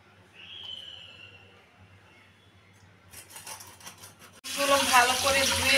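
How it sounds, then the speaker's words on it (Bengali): Cut vegetables, likely eggplant, rinsed under a running kitchen tap: a few faint clinks and rustles, then the water gushes on loudly and close for the final second or so. "ভালো করে ধুয়ে নিব"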